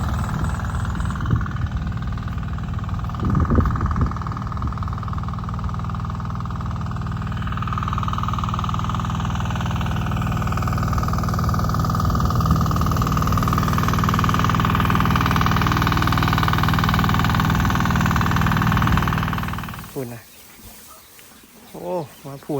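A water pump engine chugs in a steady, close idle on a cattle farm for about twenty seconds, then cuts out, leaving faint outdoor background sound.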